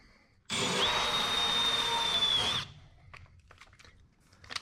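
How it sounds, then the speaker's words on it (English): Drill boring a pilot hole through sheet metal on a 1947–53 Chevy truck, a single close two-second whine at steady pitch that stops abruptly, followed by faint clicks and handling noises. "And then we're going to drill one right in the middle."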